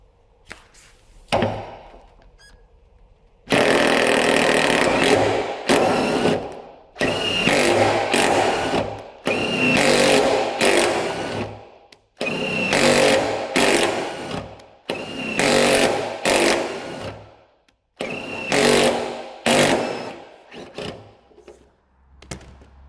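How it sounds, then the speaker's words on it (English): An impact wrench winds a bolt in and out in repeated loud rattling bursts, close by and separated by brief pauses. A few short clicks come before the first long run, and no one speaks. "you can see the impact going in and out"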